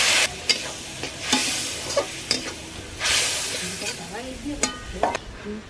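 Turmeric and chili powder spices are stirred in a pan after a splash of water, with sharp bursts of sizzling and scraping strokes at irregular intervals over a quieter background hiss.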